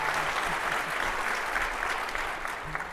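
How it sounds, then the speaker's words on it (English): A live audience at a panel discussion claps steadily for a few seconds, a dense even wash of applause at moderate volume with a faint voice underneath. "let's give them a round of applause"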